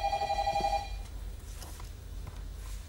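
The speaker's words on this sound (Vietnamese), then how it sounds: "Điện thoại của ai nói đi?" A telephone rings briefly indoors during a Vietnamese comedy sketch, its tone stopping after about a second and leaving low room noise.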